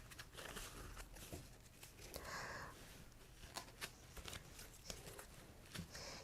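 Tarot cards gathered up and shuffled by hand, a steady run of soft riffling and flicking patters with a few sharper snaps, close and fairly quiet.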